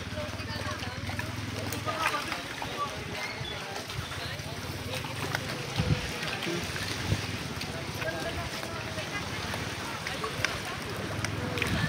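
Strong wind gusts buffet the microphone at an outdoor walkway in Lopez, Quezon as rain approaches, a constant rumbling roar throughout with a person talking over it.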